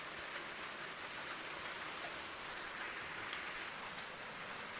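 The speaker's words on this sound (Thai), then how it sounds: "ฝนตกอยู่นี่พี่น้อง" Rain falls steadily on a garden plot, a soft, even hiss of drops with no pauses, faint and constant throughout with no voices.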